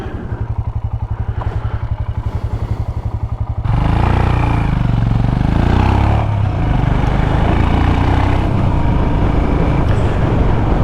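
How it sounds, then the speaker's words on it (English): A motorcycle engine is heard while riding, first a steady pulsing idle-like thrum, then a loud sustained roar with heavy wind rush close to the microphone. "You need a bit of the surroundings in there, the wind noise, the sound of the bike"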